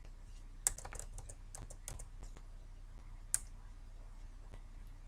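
Keys clicking on a computer keyboard in steady, irregular bursts of typing, fairly faint and close, with two sharper louder key strikes standing out.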